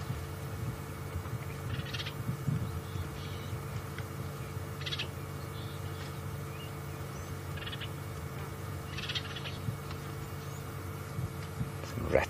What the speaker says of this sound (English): Cape turtle doves to the right.